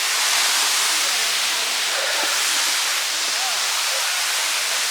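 A waterfall in Nisəqala canyon pours steadily in a loud, continuous broadband rush that fills the whole scene, with no pauses and only faint traces of voices beneath it.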